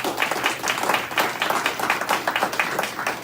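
Audience applause at a ward town hall meeting, many hands clapping in a lively, slightly rhythmic pattern at moderate volume for a few seconds, with a faint steady hum beneath.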